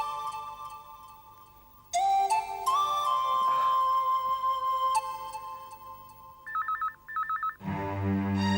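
An electronic telephone ringtone sounds alone: steady tones that step up in pitch, then a pair of quick warbling bursts, followed by a fuller chiming ring at the end.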